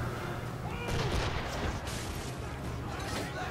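In Assassin's Creed 3, a ship fires a cannon broadside: a rapid string of booming blasts rolls out over a few seconds, loud and close, with crackling reports overlapping one another.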